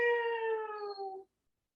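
A child imitates a cat's meow during a kids' yoga session, a single clear, tonal, drawn-out meow lasting just over a second, close and unaccompanied, that fades out into silence.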